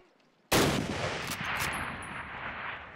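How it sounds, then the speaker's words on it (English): A single sharp Springfield rifle shot at a Call of Duty bootcamp firing range bursts out after a moment of near silence, followed by a long, loud reverberant tail. "Move to the fence and fire 2 rounds at your target"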